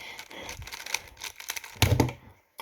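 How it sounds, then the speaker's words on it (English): A Gan 356 speed cube being turned, its top magnets on the yellow side giving a very clicky noise, heard as a quick run of sharp clacks and rattles with a louder burst near the end, alone and close. "the top magnets on the yellow side has a very clicky type noise"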